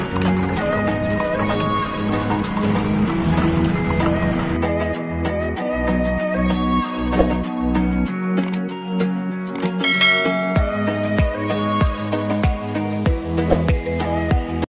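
Horse hooves of a tonga horse cart clip-clop steadily near Agra Fort, loud rhythmic strikes over busy street bustle and ringing, with brief pauses and bursts of faster trotting.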